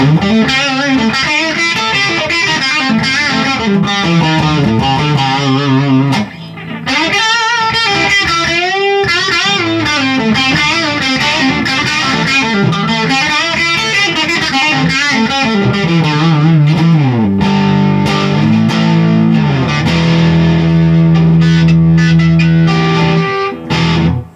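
Distorted electric guitar on the bridge pickup of a Gibson plays fast melodic runs and bends with a bright, cutting tone, loud and continuous with a brief dip partway through.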